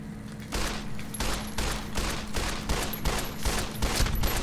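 Rapid bursts of gunfire in Fallout New Vegas, repeated sharp shots in quick succession with a steady hum beneath, loud and close.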